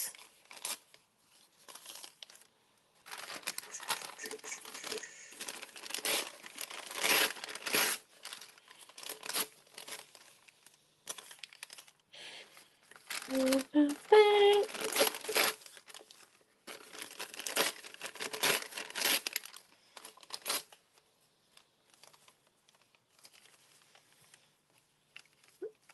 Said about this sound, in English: I just want to rip little bits and pieces of my encyclopedia paper